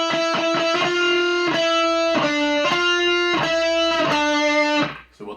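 Fast shred lick on a heavily distorted electric guitar, rapid picked notes ringing loud and close in repeated bursts before cutting off near the end.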